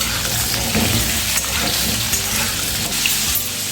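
Potatoes frying in about two tablespoons of hot oil over a low flame give a steady, dense sizzle that stays loud and close throughout, with no talking.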